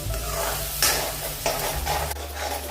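Masala spices for a traditional dal patoli sabzi fry in a pan with a steady close sizzle, broken by a few scraping stir strokes of a spatula; no one speaks.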